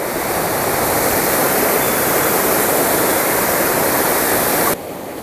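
Loud, dense floodwater from a cloudburst roars continuously close by in Dharashiv, a steady torrent that cuts off abruptly near the end.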